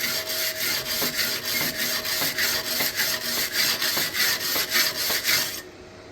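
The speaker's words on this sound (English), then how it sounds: "Ah, wire brush there, Sean." A wire brush scrubs a flux core weld in quick, regular back-and-forth strokes, producing a bright, gritty scratching that repeats evenly for several seconds and then stops.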